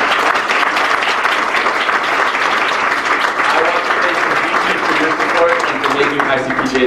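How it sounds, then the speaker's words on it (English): Applause for ICPJ community members fills a fundraiser breakfast room, a steady dense wash of clapping from a large seated crowd that holds for several seconds with a voice faintly underneath near the end. "could everybody give them a quick round of applause for our ICPJ community?"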